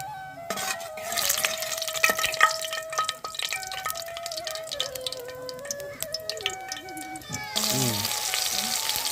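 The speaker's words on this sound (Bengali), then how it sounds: "এবার আমি এতে দিয়ে দেবো কালো জিরে ফোড়ন।" Black cumin seeds dropped into hot oil for a Bengali hilsa fish curry, giving a steady close sizzle and crackle with scattered pops and the odd clink of a spoon against the pan.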